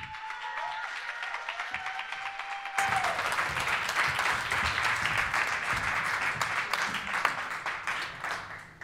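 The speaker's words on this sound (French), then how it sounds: "Je vous demande d'applaudir bien fort" An audience at a French public speaking semi-final bursts into loud, sustained applause to welcome a speaker, following a quieter stretch in which someone talks.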